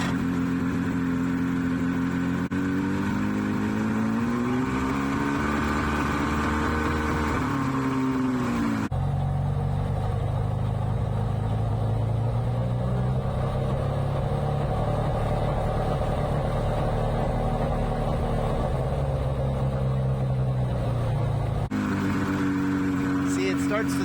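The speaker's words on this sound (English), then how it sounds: "it goes into gear, but it spits when it goes to a certain RPM" A 1983 Mercury engine running continuously and close up with a fluctuating drone that rises and falls in pitch as revs change, sputtering at certain RPM, while someone talks over it.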